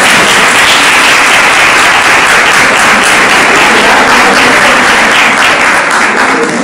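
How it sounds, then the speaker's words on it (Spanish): Loud, sustained applause from an audience fills the room at a gastronomic gathering in Cádiz, dense steady clapping with no break and no clear voices. "Un aplauso, ¿no?"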